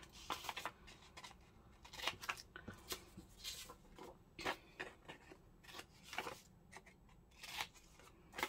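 Scissors snip through paper to shape a journal pocket, a quiet run of short, crisp cuts in an irregular rhythm, close to the microphone with no talking.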